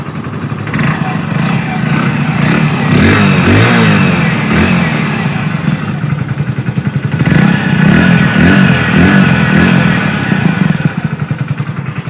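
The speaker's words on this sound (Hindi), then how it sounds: "साउंड सुन लेते हैं एग्जॉस्ट का, और इंजन का एक बार साउंड सुन लेते हैं" A Hero Splendor Plus Xtec BS6 motorcycle engine idles and revs up twice, its exhaust rumbling loudly up close with a throaty, pulsing drone.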